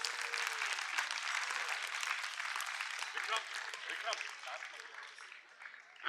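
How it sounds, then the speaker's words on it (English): Wedding guests break into sustained applause, a dense wash of many hands clapping that fades slightly toward the end, with voices mixed underneath. "I want you to give both the families a huge round of applause."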